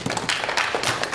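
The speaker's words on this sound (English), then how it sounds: "Give a round of applause." Audience applause at a college LiDAR summit: a short, dense burst of many hands clapping, steady and fairly loud, with no voices over it.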